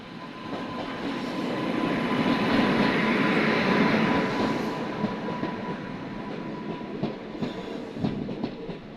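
A special passenger train hauled by a WAP7 electric locomotive passes close by; a heavy rumble swells to a peak, then fades into rhythmic wheel clatter.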